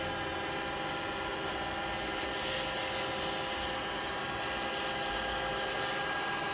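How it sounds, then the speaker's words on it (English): Steady abrasive rubbing hiss of sandpaper against wood spinning on a lathe, continuous and fairly close, with a low motor hum underneath. "Right, a little bit of sanding."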